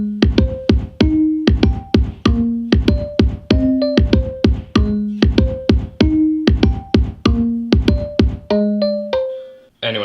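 GarageBand recreation of a song playing: a bright, plucked synth pattern of rapid staccato notes in a repeating rhythmic loop over a low bass note, loud and alone, ending abruptly.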